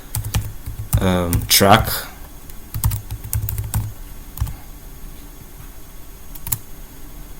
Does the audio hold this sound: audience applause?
no